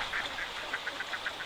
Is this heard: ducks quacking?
yes